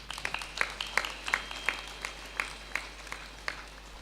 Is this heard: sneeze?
no